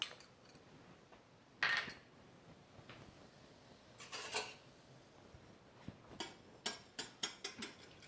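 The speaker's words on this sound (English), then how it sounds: "So I've got 1 tablespoon of just regular old canola oil in here. And then we're going to whisk this up." A whisk works egg and a tablespoon of canola oil in a bowl, with light scattered clinks and a clatter early, then a run of quick, sharp taps against the bowl near the end, close and fairly quiet.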